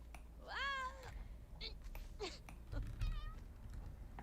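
Cats meowing in The Sims 2, several distinct rising and falling meows spread across the stretch, fairly close and clear over a faint low background hum.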